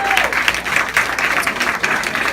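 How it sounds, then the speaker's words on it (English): Audience applause for a volunteer at a live comedy performance: dense, steady clapping from a crowd, sustained and fairly loud for the whole stretch with no break. "Go ahead and give her a round of applause"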